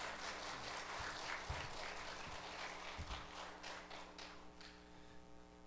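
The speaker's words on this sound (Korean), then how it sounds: "우리 뜨거운 박수로 환영하겠습니다." A church congregation claps warmly to welcome a missionary to the pulpit, a steady wash of hands that fades toward the end, with a few low thumps mixed in.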